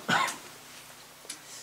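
A preacher with a cold lets out a single short cough near the microphone in a quiet room, followed by a faint second throat sound a moment later.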